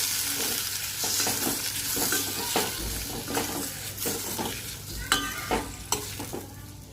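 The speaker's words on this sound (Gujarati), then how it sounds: "આપણે નાખી દઈશું ટમેટા તો આપણે ટમેટાને સારી રીતે મિક્સ કરી લઈશું" Tomatoes frying with cumin, mustard seeds and fenugreek in a pan sizzle steadily while a spoon scrapes and clacks against the pan in irregular strokes, close and fairly loud, with no voice.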